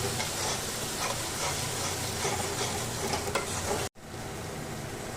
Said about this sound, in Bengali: এবার আমি দিয়ে দিচ্ছি সর্ষে বাটা দিয়ে এটাকে একটু ভালো করে কষিয়ে নেব